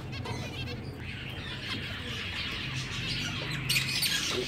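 Soft, busy chirping and squeaky calls of finch chicks in a cage over a low background hum, continuous and somewhat faint.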